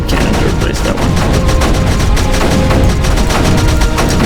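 Rapid cannon fire from the strategy video game Creeper World 3, a loud, dense barrage of repeated sharp shots in quick rhythm over a constant rumbling game soundscape.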